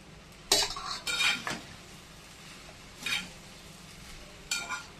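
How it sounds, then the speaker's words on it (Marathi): Cooked rice and vegetables being stirred and tossed in a pan, with a few distinct bursts of utensil scraping and clinking against the metal separated by quieter pauses, close and moderately loud, no talking. "आता उरलेला जो भात आहे तो आपण त्याच्यामध्ये टाकून घ्यायचे आणि आपल्याला मिक्स करायचे"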